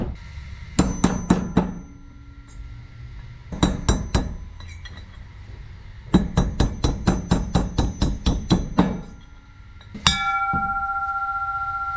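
Hammer blows driving out clutch rollers on a Can-Am Maverick Trail, sharp metallic clinks in quick bursts of four to ten strikes separated by pauses, ending with a ringing metal tone.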